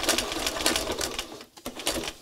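A sewing machine stitches a zigzag bar tack in one spot, its needle hammering in a fast, steady rhythm up close, with a short pause partway through and no voices.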